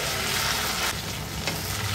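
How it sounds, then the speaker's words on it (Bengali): Ginger and green chilli paste fries in oil for a chhanar kofta curry, producing a loud, steady sizzle nearby with light stirring scrapes and no speech. "আদা কাঁচা লঙ্কা বাটার কাঁচা গন্ধটা যাওয়া অবধি ভেজে নেব"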